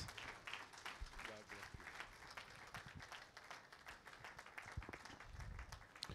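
Congregation at an Urdu church service claps to welcome the preacher, a dense, continuous round of applause with voices mixed in beneath it.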